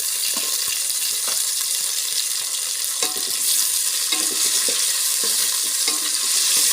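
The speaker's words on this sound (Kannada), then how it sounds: "ಇದನ್ನು ಒಂದು 2 ನಿಮಿಷ ಚೆನ್ನಾಗಿ ಫ್ರೈ ಆಗ್ಬೇಕು ರೀ." Tomatoes frying in hot oil in a pan give off a steady, loud sizzle with occasional stirring scrapes, close up and without talk.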